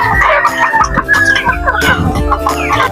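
Chickens and young chicks clucking and cackling loudly at feeding time in a rural yard, with continuous overlapping calls and a rooster-like crow, close and dense, with no voices.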